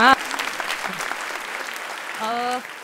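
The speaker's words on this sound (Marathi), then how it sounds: "अथर्वसाठी टाळ्या व्हायला पाहिजे" A studio audience at a Marathi comedy talk show bursts into steady applause for Atharva, clapping continuously for nearly three seconds, with a brief voice at the very start and another near the end.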